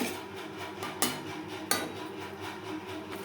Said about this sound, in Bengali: লো ফ্লেমে 2-3 মিনিট নাড়াচাড়া করে নেব